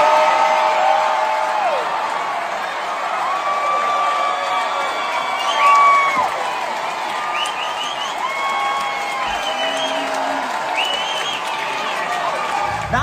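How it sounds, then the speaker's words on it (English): Large Florida rock-concert crowd at a show cheering and roaring, a sustained dense wall of voices with whistles and whoops rising above it, steady and loud throughout. "Ron Savage went on stage and listened to this response from the Florida crowd."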